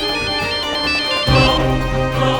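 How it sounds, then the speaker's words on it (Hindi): A bright electronic ringtone plays a repeating melodic tune, loud and steady, with no voices. "किसका फोन आया?"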